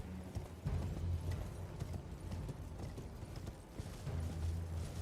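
Horse hooves clip-clop steadily in a video game, a continuous run of close, rhythmic low thuds with no speech over them.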